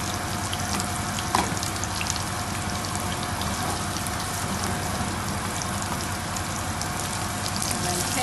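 Bean burgers browning in a frying pan give off a steady soft sizzle and crackle that keeps up evenly throughout, with a brief small clatter early on.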